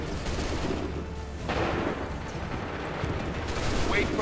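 Musket volley fire in the Assassin's Creed 3 video game at Lexington, a dense crackling burst of massed shots over a rumbling battle background, loud and continuous.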